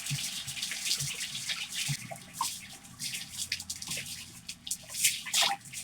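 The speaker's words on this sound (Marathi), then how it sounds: "तर ही भाजी मी घालून घेते आता" Fenugreek greens go into hot oil with fried garlic and green chillies, giving a soft, spread-out sizzle with scattered drips and light crackles, fairly faint throughout.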